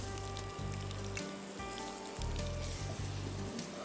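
Chicken fries in a pan for a gravy-style dish as garlic paste is added, giving a steady, close sizzle and crackle with a low hum beneath it and no speech.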